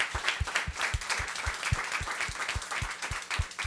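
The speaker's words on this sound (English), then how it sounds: "Let's give them all a round of applause, folks." An audience at a company all-hands meeting applauds, steady rhythmic clapping from a modest crowd, fairly close and sustained throughout, with no talk over it.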